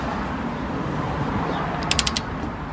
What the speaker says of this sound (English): It then says you do them up to 120 Newton meters. I have a torque wrench here.